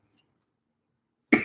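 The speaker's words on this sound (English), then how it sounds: "My cough doesn't mean I'm sick." A single short cough bursts out near the end, loud and close, after a stretch of near silence in a home kitchen setting.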